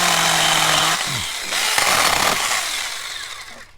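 A SAKER 20V cordless mini chainsaw runs loud and close with a high, buzzing electric whine. It dips and rises in pitch as the chain loads and frees up, then winds down toward the end.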